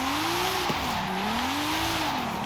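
A 2023 Nissan Z engine in Forza Horizon 5 revs loud and close, its pitch sweeping up and down steadily while tires squeal, with one sharp shift-like dip early on.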